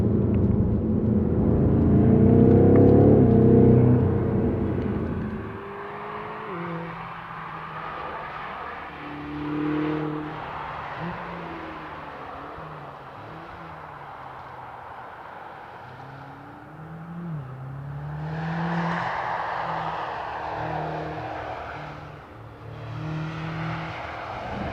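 A BMW M8 Gran Coupe with a heavily filtered exhaust drives and accelerates, its engine note rising and falling through gear changes, a steady mid-level rumble with a louder surge at the start and later.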